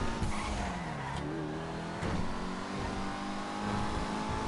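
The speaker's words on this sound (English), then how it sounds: "Yep, drift it." A car drifts with its tires squealing in long, sweeping slides. The engine revs and accelerates underneath, loud and close throughout.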